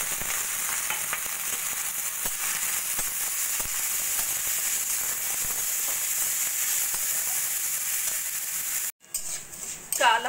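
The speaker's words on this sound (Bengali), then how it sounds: "সেই চাল ডালটা প্রথমে আমি একটু ভেজে নেব।" Soaked Gobindobhog rice and moong dal frying in a hot pan give a steady, dense sizzle that holds for several seconds, then a brief silence and a few closer stirring scrapes and crackles.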